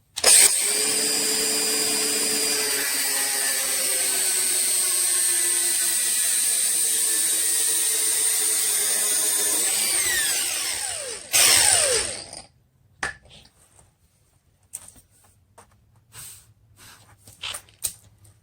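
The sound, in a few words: grinder cutting during 4L80E transmission swap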